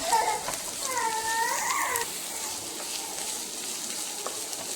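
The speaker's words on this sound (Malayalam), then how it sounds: "ചേമ്പിൻ്റെ തണ്ട് അരിഞ്ഞത് ഇട്ട് കൊടുക്കാം. ഇട്ടൊന്ന് വാട്ടി കൊടുക്കാം." Chopped taro stems sautéing with sliced onion in a hot pan give off a steady, close hiss of frying, broken briefly by a few light scrapes and clinks near the start.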